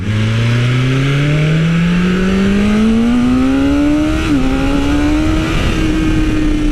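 2020 BMW S1000RR with a stage 1 ECU flash accelerating hard, its engine note rising steadily through the gears with a quick shift dip partway, loud and close from start to finish.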